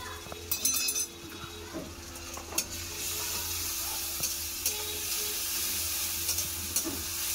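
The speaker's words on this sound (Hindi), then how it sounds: "ভালো করে আদা রসুনটা ভেজে নেবো, গন্ধ যাওয়ার জন্য।" Ginger-garlic paste fries in a pan for a vegetarian eggplant and soybean dish, starting with a few clinks and stirring scrapes, then settling into a steady close sizzle that runs to the end with no talk.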